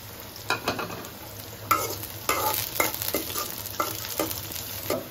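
Onion and garlic sizzle in a hot pan, broken by several sharp scraping stirs that briefly make it louder.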